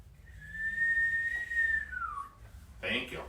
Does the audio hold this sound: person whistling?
yes